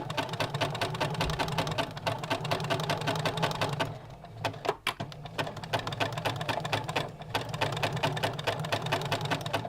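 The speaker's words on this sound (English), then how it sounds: "You can see there I'm just pivoting the flags as I sew" A sewing machine stitches lace bunting flags in fast, rapid needle bursts, pausing briefly midway as the flags are pivoted, then running on at a close, even pace.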